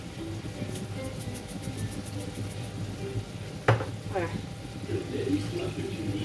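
Spiced meat and onions with turmeric, paprika, pepper and salt stir-fried in a pan, a steady sizzle beneath repeated spoon scrapes and one sharp clink, with a faint knocking pattern early on and no talk.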